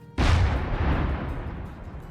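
A tank cannon fires in the block-building game Minecraft with the Create Aeronautics mod, giving one loud, sudden boom that rolls into a long, fading rumble, heard alone.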